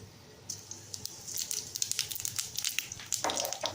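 Bay leaf, cinnamon and cardamom fry lightly in hot oil for beef tili vuna, giving soft crackles and sizzling pops that grow busier toward the end, close and fairly quiet.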